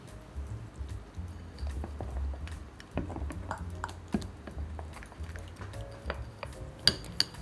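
Batter for Kuih Dadar pandan coconut pancakes being stirred in a bowl: repeated soft scraping and swishing strokes with light clinks of utensil against the bowl, fairly close and quiet, ending in a couple of sharper taps.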